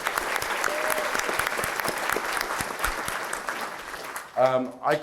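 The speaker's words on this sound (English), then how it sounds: "Dominique deserves a double round of applause" At a city State of the City event, an audience gives Dominique a sustained round of applause with dense, even clapping that ends abruptly as a voice starts speaking.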